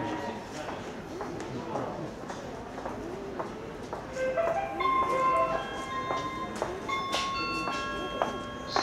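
Steam locomotive 70013 Oliver Cromwell runs through Purley station without stopping, giving a rhythmic, clattering beat that grows louder midway, with occasional high metallic squeals.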